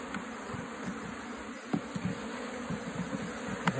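Honey bees leaving a hive box, a dense continuous buzzing swarm close by with occasional brief louder passes of individual bees.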